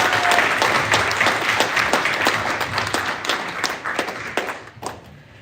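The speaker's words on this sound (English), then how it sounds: "Let's welcome them all as they get seated with a big round of applause" An audience at a Libertarian presidential debate applauds as candidates take their seats, a sustained crowd of claps with distinct sharp hits that gradually thins and fades.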